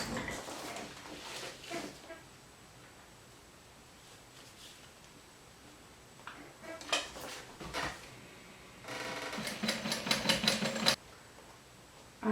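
A sewing machine stitches around a drawn rectangle on a zipper pocket, running in short bursts between quiet pauses, with a longer steady run near the end, close and moderately loud.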